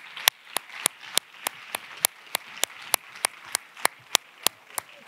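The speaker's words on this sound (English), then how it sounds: "So make a big applause to Emmy Van Weisberg" Slow, sparse clapping at an academic conference talk, sharp hand claps spaced about every third of a second, steady and moderately close, with no voices over it.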